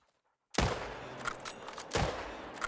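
A single sharp hunting rifle shot aimed at a bear in theHunter: Call of the Wild cracks out of silence, followed by a rolling echo and a second fainter report.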